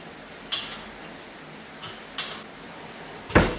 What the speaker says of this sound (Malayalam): അപ്പോൾ തലേന്ന് കഴുകി വെച്ച പാത്രങ്ങളൊക്കെ ഒന്ന് അതിൻ്റെ സ്ഥാനത്തേക്ക് എടുത്ത് വെക്കുകയാണ്.